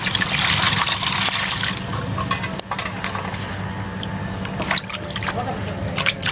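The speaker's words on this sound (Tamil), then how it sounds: "இப்போ வந்து இந்த தண்ணி ஊற்றி அலசிக்கலாம்." Water is poured over scooped aloe vera pulp to rinse it, splashing and trickling with small clinks of a vessel while someone talks over it.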